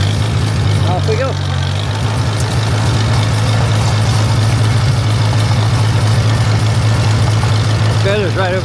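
A Farmall tractor engine runs steadily with a deep, rumbling idle as it is put into gear and driven off, loud and close throughout, with birds chirping faintly in the background.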